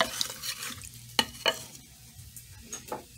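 A spoon scrapes and stirs beef and broccoli with brown sugar inside a crock pot, giving soft wet swishes and a few distinct clacks against the pot, close and alone without speech.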